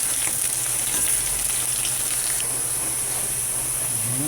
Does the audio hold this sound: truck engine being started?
no